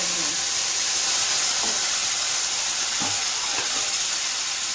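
A paste of dried red chilli and poppy seeds hits hot oil while pabda fish curry is cooked, making a broad continuous hiss with a few faint stirring scrapes, nearby and steady throughout.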